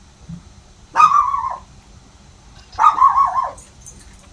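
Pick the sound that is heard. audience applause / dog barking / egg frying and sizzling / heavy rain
dog barking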